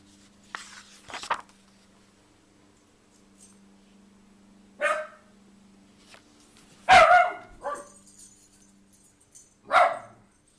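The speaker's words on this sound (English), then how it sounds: "That's my dog in the background." A dog barks in the background of a quiet indoor room, a few scattered single yips and barks spread over several seconds, somewhat distant, over a steady low electrical hum with no speech.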